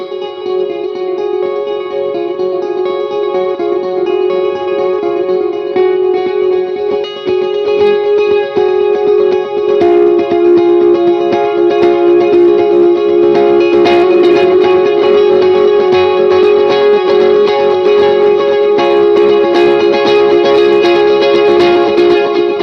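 An electric guitar runs through an amplifier over a Mogami cable, its amp breaking up into a loud, sustained, slightly distorted tone with chorus-like shimmer; the texture thickens and grows more driven midway through.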